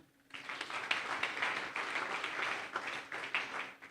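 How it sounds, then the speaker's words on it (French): An audience in a church service claps and cheers after a woman from Douala shares her testimony, steady applause that begins suddenly and continues throughout at moderate distance. "Est-ce qu'on peut acclamer?"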